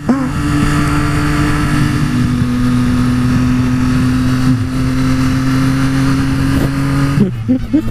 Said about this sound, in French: Franchement le bruit de cette bécane.